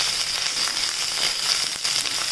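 Ginger-chili paste and garlic sizzle in a hot pan for Manchow soup, a steady close frying hiss with faint crackles.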